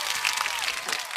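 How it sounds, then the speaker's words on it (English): A short burst of audience applause for a performer named Poola at a small mini-show, dense clapping that stays even and fairly loud throughout the brief moment. "Big round of applause for Poola."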